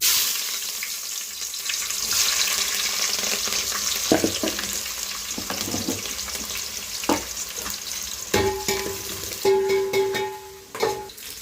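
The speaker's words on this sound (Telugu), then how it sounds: "ఉల్లిపాయ పచ్చిమిర్చి ఫ్రై చేసుకుందాం" Onion and green chilli frying in well-heated oil, a loud crackling sizzle with stirring knocks and scrapes, plus a few brief tonal clinks of a utensil against the pan toward the end.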